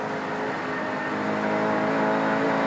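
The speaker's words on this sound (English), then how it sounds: "Here we hear Brocky going through that 6-speed gearbox." Peter Brock's touring car from the 1993 Australian Touring Car Championship, its engine droning steady and loud up close as it works through a 6-speed gearbox, pitch holding with slight rises across a short continuous burst.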